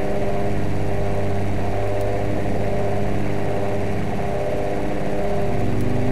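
A Formula 1 engine built in the Automation game idles at around 2000 rpm, producing a loud, steady, buzzing drone with a constant low hum and no change in pitch.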